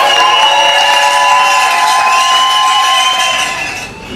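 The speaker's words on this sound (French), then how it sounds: "Applaudissez." Wedding guests at a civil ceremony cheer with loud, sustained, high-pitched shouting and excited voices, holding steady before fading out near the end.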